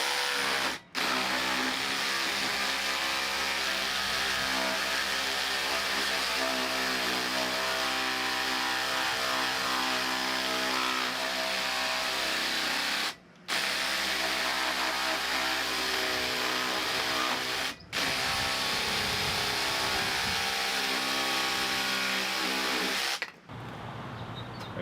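Black+Decker BDCDC18 cordless drill with a saw attachment cutting through wood stock with a dull blade, a loud steady whine running continuously with a few brief stops between cuts.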